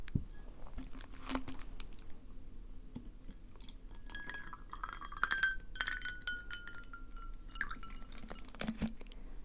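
Ice cubes clink and rattle in a glass of tea lemonade, close and quiet, with sporadic light taps and chinks against a soft, crinkly background.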